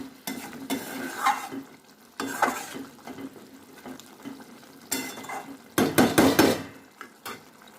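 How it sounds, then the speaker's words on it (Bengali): Chicken gravy in a pan being stirred after green-coloured water is mixed in, with bursts of scraping and clinking of a spoon against the pan over a low simmering sizzle, close up and without speech. "গ্রেভির জন্য জলটা গ্রিন কালারের ওয়াটারটাকে মিক্স করে দিচ্ছি"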